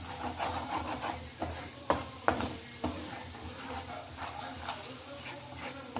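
A spoon scrapes and stirs masala for matar paneer as it sautés in a pan, with an intermittent rubbing scrape and a few sharper knocks over a soft background sizzle.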